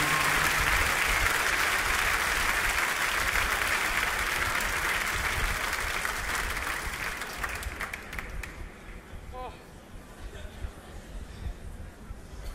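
A concert audience applauds a Canadian band at a live show in Cologne, a dense, loud wash of clapping that fades over the final seconds to scattered claps and faint crowd murmur.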